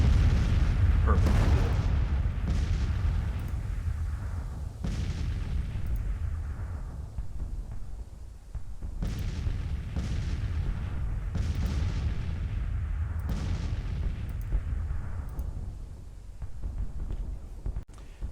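Artillery guns fire in the Grand Tactician Civil War strategy game, a series of heavy booms rolling out every few seconds, loud and reverberant, with a constant low battlefield rumble between shots.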